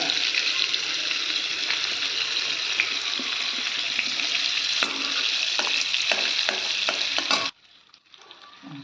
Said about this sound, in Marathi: कांदा परतते, त्याच्याबरोबरच लसूण आणि मिरचीचा ठेचा मी केला आहे तो पण त्याच्याबरोबर परतून घेऊया